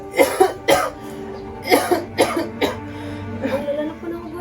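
An older man coughs in a series of harsh, close bursts with short gaps between them, and a clear of the throat mixes in.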